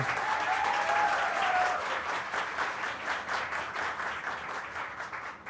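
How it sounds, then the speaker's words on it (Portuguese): An audience at a literary café event applauds an author, with dense, sustained clapping and a brief whistle or cheer early on, fading slightly toward the end. "Salva de palmas para Nana Palvoli."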